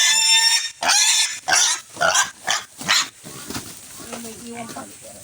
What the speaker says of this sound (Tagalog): Ganyan po mga kaibigan ang pagtitimbang ng baboy.